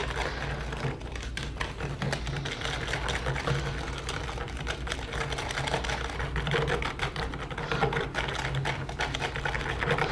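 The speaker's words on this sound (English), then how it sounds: "just put it in there and whisk it together until all of the pudding is mixed up" A whisk beats chocolate pudding mix into milk in a bowl, a steady, busy clatter and scrape of wire against the bowl that continues without pause.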